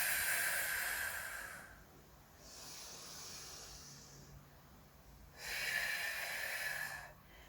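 Strong, hissing exhales during a mixed-ability Pilates class with no equipment, two long airy breaths out separated by a quieter in-breath, close and alone with no talk.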